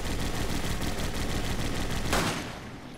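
Dense, rapid gunfire from the Resident Evil 5 co-op game on PS4 rattles continuously at close range, a sustained automatic fusillade that briefly swells before easing off at the end.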